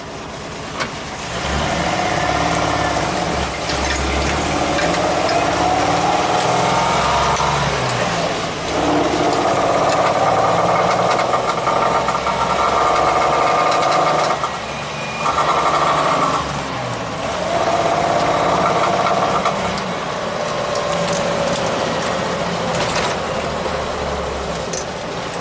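A 1985 Jeep CJ-7 Renegade engine runs at half throttle under load, a steady, fairly loud drone that holds for the whole stretch with slight rises and dips and no talking.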